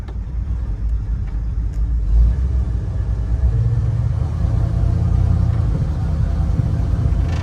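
Rebuilt 351 V8 in a 1978 Ford Bronco idling through a new exhaust, a deep, steady, loud rumble close by with a slight swell partway through and no talking.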